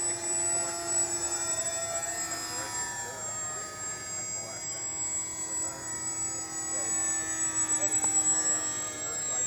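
An AeroScout RC model airplane fitted with a Radian wing flies by with a steady, whining electric motor drone that rises and falls gently in pitch. It is moderately distant and continuous throughout.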